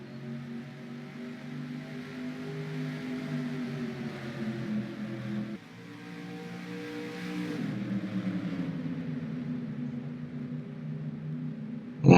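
Stock cars roar around Daytona in a racing video game, a dense pack of engines droning steadily with shifting pitch as cars pass close, loud and continuous throughout.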